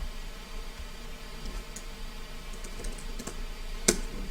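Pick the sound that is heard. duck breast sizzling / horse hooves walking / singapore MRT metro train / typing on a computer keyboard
typing on a computer keyboard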